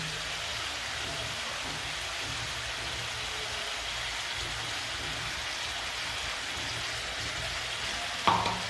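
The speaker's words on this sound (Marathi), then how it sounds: "भोपळा हा चांगला परतून झालेला आहे आता त्यामध्ये मी शेंगदाण्याचा कूट टाकते" Pumpkin sabzi with crushed peanuts being stirred in a pan: a steady, even sizzle with soft scraping throughout, ending in a brief louder knock near the close. No one speaks.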